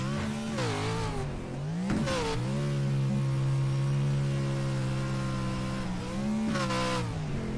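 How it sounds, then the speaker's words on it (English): A Pro4 off-road race truck engine revs high and hard around the Crandon track, rising and falling in pitch as it climbs through gears, loud and close with no talking. "Just listen to it, how high the revs are throughout most of the lap"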